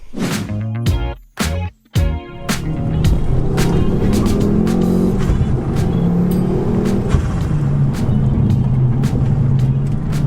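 A stage 2 Ford Focus ST, a lowered manual front-wheel-drive hatch, is driven on the road, its engine droning loud and steady after a few sharp clicks and thumps at the start.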